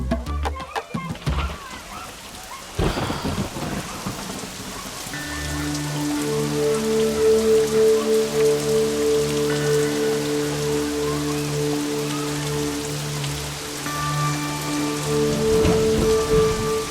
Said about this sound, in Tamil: என்ன வெயில்ல மழை பெய்யுது